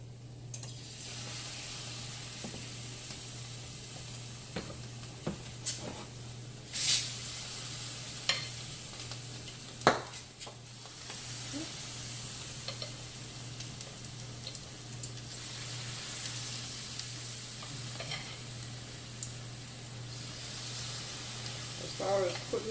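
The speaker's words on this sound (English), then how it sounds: "putting them in the pot to fry" Jamaican fritters fry in hot oil in a pot, giving a steady, close sizzle with occasional clinks and stirring taps, while a voice talks intermittently over it.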